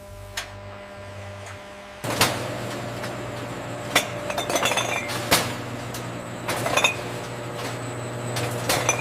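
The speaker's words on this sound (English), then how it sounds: "we send the jars through the air rinse station to ensure they're perfectly sterile before filling." Glass jars clinking and knocking together on a peanut butter factory conveyor at an air rinse station, irregular sharp clinks over a steady machine hum, starting quietly and turning busier and louder after a couple of seconds.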